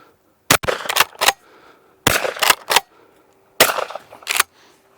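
A Hatsan Escort .410 pump-action shotgun loaded with 2- and 2.5-inch cartridges fires three times. Each loud, sharp report is followed by quick mechanical clacks of the pump, with quiet gaps between the bursts and no talking.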